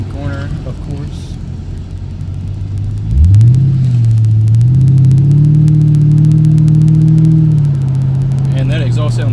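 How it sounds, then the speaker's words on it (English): A 2007 Ford Mustang GT on a winding road rises into a loud, steady engine drone with exhaust note as it accelerates, holding a strong revving tone for several seconds before easing slightly. "And that exhaust sounds good."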